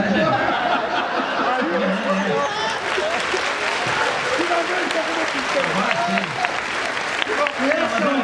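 Podcast event audience applauding, a dense continuous clatter of many hands held at steady loudness, with chatter and voices over it.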